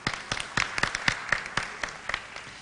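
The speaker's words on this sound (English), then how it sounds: "a big round of applause for Mr." Scattered applause from a conference audience for a keynote speaker at an international government meeting, with sparse individual claps rather than a full ovation, moderately loud and fairly close.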